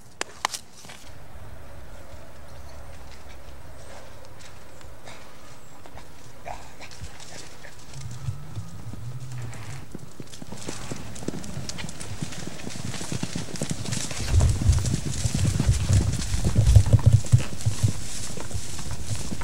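Horses, including one with founder, run out to a back pasture, with hooves clip-clopping. Hoofbeats grow louder and denser in the second half, with a dog also present in the mix.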